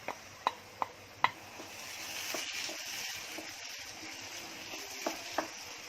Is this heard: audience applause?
no